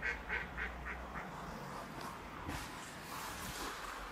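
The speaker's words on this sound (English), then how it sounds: "Now we've got some quackers come across to join me." Ducks quacking at a riverbank, a few short calls near the start and then fainter ones amid outdoor ambience, with no talking.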